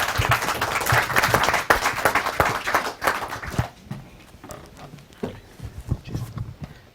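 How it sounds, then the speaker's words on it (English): An audience at a book launch ceremony at the Apex Centre applauds a speaker onto the stage, loud dense clapping that fades into scattered claps and footsteps. "if you can give a round of applause and welcome to the stage Avnish Goyal, please"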